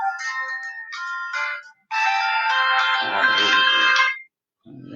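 A mobile phone ringtone plays loudly and close: a melodic electronic tune in bursts, a short phrase, a longer sustained passage, then a pause before it starts again.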